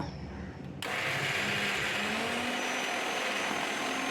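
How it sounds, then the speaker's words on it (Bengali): Kitchen mixer grinder blending green peas and fresh coriander leaves into a thick paste, cutting in abruptly as a loud, steady motor whine with harsh grinding that holds without letup. "এবার মিক্সিটা ঘুরিয়ে আমি এটা পেস্ট করে নেব"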